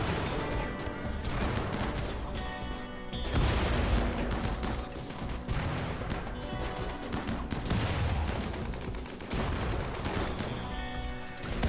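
Gunfire during a RimWorld colony battle, rapid shots and bursts crackling over a constant layer of game music and battle noise, moderately loud throughout with no voices.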